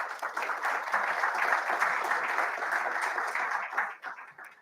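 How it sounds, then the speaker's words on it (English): A conference audience gives a round of applause, steady dense clapping heard from a slight distance for about four seconds before it tapers off quickly. "I think we need to give him a round of applause."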